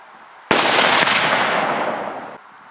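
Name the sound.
cannon firing blanks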